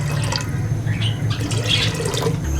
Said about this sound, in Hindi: अब मैंने एक देचकी लिए, देचकी में पानी डाल देता हूँ।